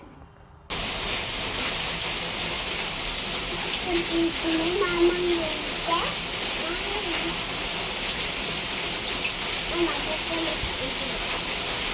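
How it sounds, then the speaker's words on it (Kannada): Heavy rain pours down in a steady, dense hiss that starts abruptly and continues loud and unbroken, with faint voices underneath. "ಎಷ್ಟು ಜೋರಾಗಿ ಮಳೆ ಬರ್ತಿದೆ ನೋಡು"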